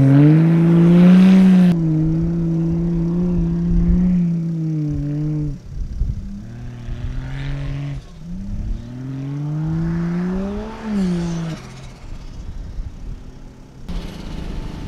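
Vehicle driving along a remote bush track in Western Australia, engine droning steadily and shifting pitch as it labours and eases over rough ground, loud and close.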